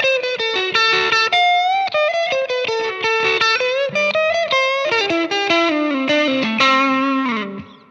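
Rock guitar lick played through a Fender Mustang amp with a distorted, effected tone: a fast run of bright, sustained picked notes, loud and alone, closing on a held note that fades.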